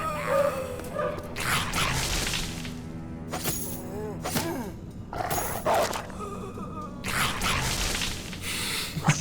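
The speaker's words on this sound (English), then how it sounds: "Stupid goblins and their stupid dogs." Goblin war dogs in the video game Battle Brothers bark repeatedly in loud, rough bursts amid battle sounds, with talk running alongside.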